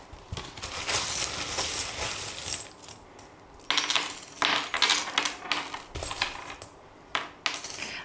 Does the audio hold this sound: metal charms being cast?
yes